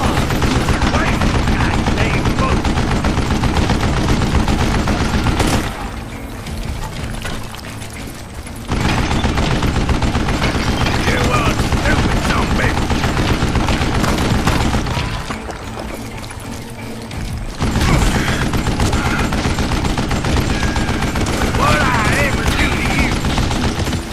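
An old man's mounted gun in Call of Juarez: Gunslinger fires long sustained rapid bursts, loud and close, broken by two short pauses before the hammering resumes.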